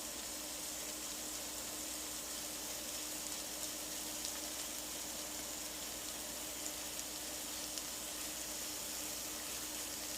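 Shrimp sautéing in oil in a pan beside salmon, a steady dense sizzle that holds evenly throughout, close and moderately loud with no talking.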